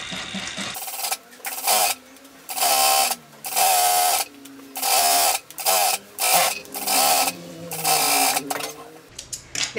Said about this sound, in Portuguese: a gente vem aqui com um pezinho de máquina e vem fechando